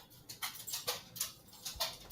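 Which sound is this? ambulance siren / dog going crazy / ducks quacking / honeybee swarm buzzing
dog going crazy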